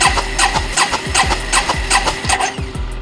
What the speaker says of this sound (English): we're gonna turn the bike on, open the throttle like we did on the other side, and then throttle open, crack the engine.